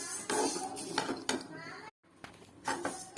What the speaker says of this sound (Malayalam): ചീനിച്ചട്ടിയിട്ട് വറുക്കണം കേട്ടോ.